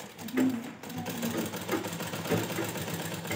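An electric sewing machine stitches piping onto a Gujarati Rabari ghaghra belt, a close, steady mechanical whirring hum with rhythmic knocking throughout.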